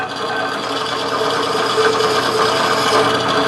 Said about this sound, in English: And I'm putting a chamfer on the threaded end.